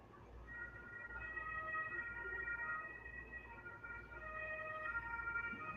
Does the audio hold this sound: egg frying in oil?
no